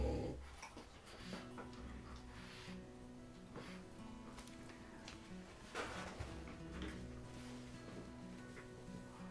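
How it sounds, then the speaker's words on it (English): Dogs entering a room during a live stream snort, breathe heavily and whimper, with a low growl. The sounds are close but quiet, mixed with background music and faint speech. "The dogs just stormed the stream, in case you didn't know."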